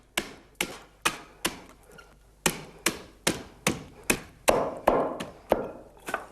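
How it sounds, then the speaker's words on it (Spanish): An axe chops rhythmically at a heather broom, trimming the spread-out heather twigs: about fourteen sharp, close woody thwacks at an even pace, each fading quickly, with no voices. "Ahora se recoge con la hacha y como se ensanchan las plantas de biércol, se le da un pequeño recorte"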